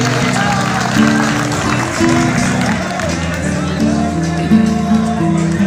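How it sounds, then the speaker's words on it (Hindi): Students at a college program in Bhakkar applaud amid crowd noise, with clapping running under steady background music or tones and crowd chatter, fairly loud and continuous. "एक दूसरे का सपोर्ट करें क्लैपिंग करके"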